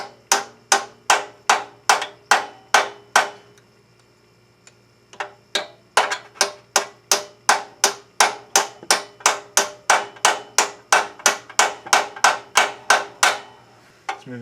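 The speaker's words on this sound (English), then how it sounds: "But I'm going to take a punch and a hammer." A hammer striking a punch to rotate an axle seal on a 1999 Subaru Legacy Outback, a long run of sharp, evenly spaced metallic blows, about two per second, with a short pause partway through.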